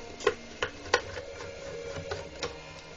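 Small screws being backed out of a Xytronic LF-1600 soldering station during teardown, giving a handful of close, sharp clicks and ticks spaced irregularly over quiet room tone.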